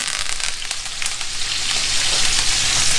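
A ribeye sears in a hot pan with butter, garlic, rosemary and thyme, giving off a steady, close, loud sizzle and frying hiss that runs throughout with no talking.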